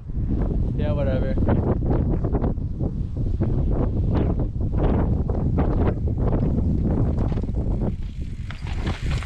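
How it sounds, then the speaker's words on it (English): Heavy wind buffets the microphone in a loud, continuous roar during a downhill mountain bike run, with muffled voices mixed into the rumble. "The wind needs to chill."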